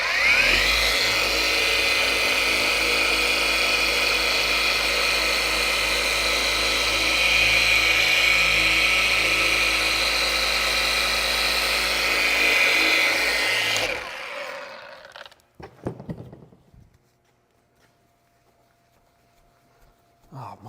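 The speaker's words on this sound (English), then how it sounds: "keep that polisher going" A powerful rotary polisher working neglected black car paint, a loud steady high whirring drone close up for most of the stretch before it winds down and stops, leaving a few quiet handling sounds.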